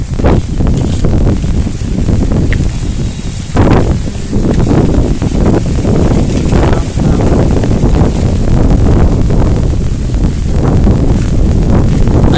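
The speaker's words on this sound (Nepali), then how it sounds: "हावा हेभी चल्दो रहेछ नि" Strong wind gusts buffet the microphone beside the Teesta River near Kalimpong, a loud, steady roar with surging bursts throughout and no voices.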